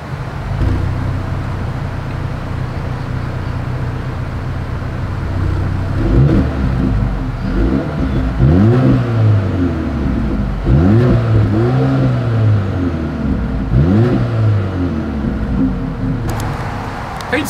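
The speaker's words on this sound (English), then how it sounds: "As always, here is that exhaust clip." A Mercedes-Benz GLA 250 SUV's exhaust from its dual outlets rises and falls through several loud revs after a steady idle, close to the rear of the vehicle.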